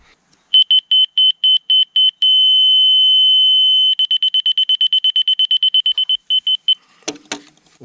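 A CIGMAN laser receiver emits loud, close electronic beeps, first a run of evenly spaced short pulses, then a long steady tone, then a faster rapid series, ending with handling clatter.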